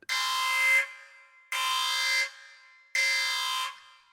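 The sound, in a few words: podcast timer going off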